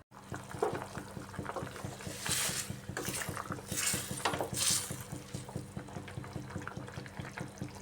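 A pot of rohu fish curry broth with papaya and potato boils on a gas stove, giving a steady, fairly quiet bubbling and hiss over a low hum.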